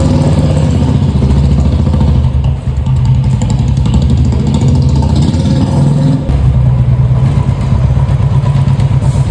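A serviced Royal Enfield Classic 350 motorcycle runs with a loud, close, steady single-cylinder thump, holding a rhythmic idle-like beat with slight dips in revs as it gets ready to ride off.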